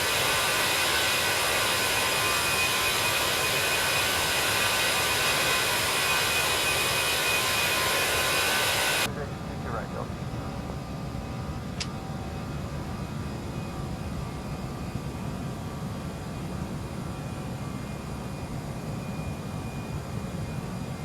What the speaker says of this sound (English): That was a nice takeoff. Nice and smooth.